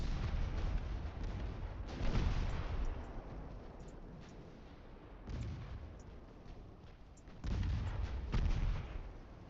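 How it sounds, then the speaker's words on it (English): Heavy naval gunfire in the Ultimate Admiral Dreadnoughts game: repeated deep booming salvos from battleship main guns, loud and rumbling, with three or four heavy bursts spread across a continuous low roar of battle. "Shift main guns to Westfalen."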